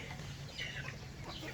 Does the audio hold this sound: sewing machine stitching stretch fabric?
no